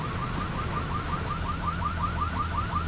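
A car alarm in the game No One Survived whoops steadily with a rapid repeating siren, mid-distance and continuous over low ambient rumble.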